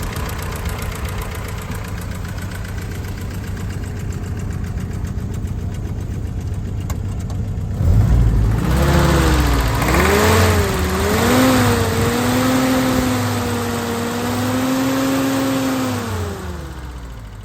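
Rebuilt engine of a restored Willys Jeep CJ2a idling with a steady mechanical patter, then revving up and down in several rising and falling swells before settling back toward idle, heard close with no talk.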